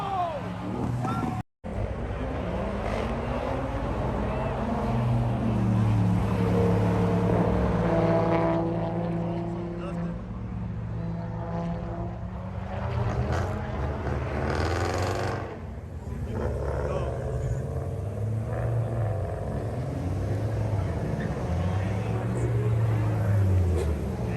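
A stock Mazda Miata races on a track, heard from onboard as a loud engine whine that repeatedly climbs and drops with gear changes, with one brief dropout near the start.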